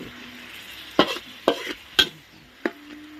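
Pork being stir-fried with garlic in a pan, a quiet sizzle under four sharp spatula scrapes and clacks spaced about half a second apart, close by, no talk.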